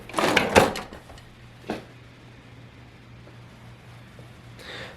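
Wooden drawers of a newly built 72-inch vanity slide and bump shut, a loud clatter at first, then a softer single knock and a faint scrape at the end, with no talk.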